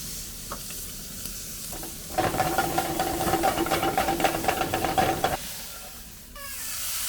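Peeled shrimp sautéing in hot oil for a quick pasta dish, a loud crackling sizzle that bursts in suddenly and holds for about three seconds with stirring, then drops back to a quieter background hiss.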